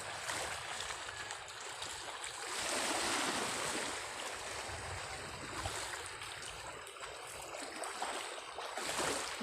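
Rough sea waves churn during Typhoon Amang, heard as a continuous broadband roar of surf that swells and recedes in loudness, mixed with gusts of wind noise and no talking.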